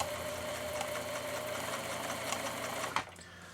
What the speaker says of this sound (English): What I'm doing right now is I'm only going and sewing in place.